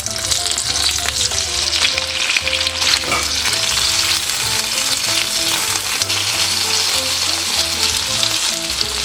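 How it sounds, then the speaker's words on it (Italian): Potatoes fry in hot extra-virgin olive oil in a pan, giving a loud, steady, close sizzle and crackle that runs without a break. "Quando l'olio è ben caldo buttiamo dentro le patate."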